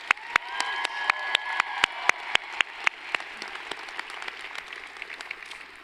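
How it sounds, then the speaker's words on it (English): An audience at a 2023 graduation commencement applauds, with strong, evenly spaced claps standing out over a softer crowd clapping that gradually thins. "Big round of applause"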